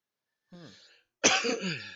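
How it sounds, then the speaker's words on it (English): Two coughs, close and fairly loud: a shorter one, a brief pause, then a harsher, longer one. No talking. "I keep coughing."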